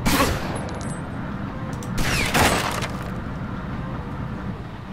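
Gunfire from an enemy gangster in Omerta: City of Gangsters, a burst of shots opening the moment and another flurry near the middle over a steady rumbling game background.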